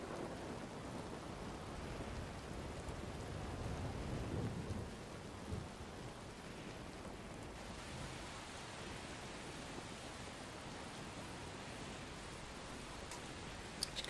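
Steady heavy rain pours throughout a thunderstorm in the video game Far Cry 3, with low rolling thunder swelling around the middle, all loud and continuous with no voices.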